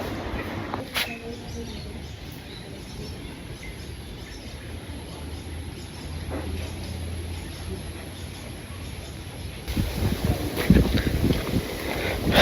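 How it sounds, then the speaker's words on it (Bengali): Outdoor wind gusts and buffets near a boat on the water, a steady low rush that swells louder toward the end, with faint bird calls in the background. "কি সুন্দর বাতাস"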